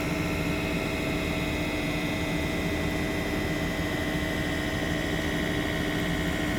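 A TY23VSM mobile lathe spins at 800 RPM, giving off a steady, unbroken mechanical whir and hum at an even level throughout, with no voices.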